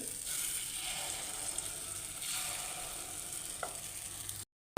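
Paddu batter frying in an oiled paddu pan on a gas stove, a steady soft sizzle and crackle that holds throughout before cutting off abruptly at the end.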